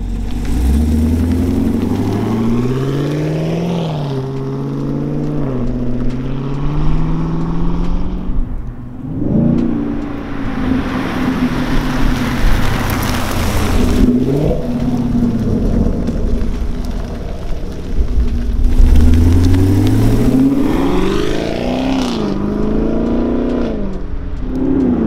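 A 2021 Chevrolet Camaro 2SS with the 1LE track performance package drives down the road, its V8 engine rising and falling through the gears in loud, continuous pulls with steady road and wind roar.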